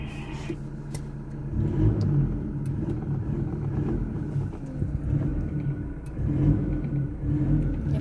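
A car engine idles with a steady low rumble, rising briefly as it revs, with some wind noise on the microphone.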